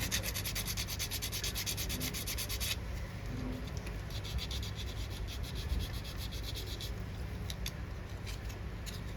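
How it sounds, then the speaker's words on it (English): Sandpaper works steadily back and forth on a small scratch-built parang machete model for a diorama, a close, continuous dry rasping scrape with a fast even rhythm and no talking. "it's still workable with sandpaper"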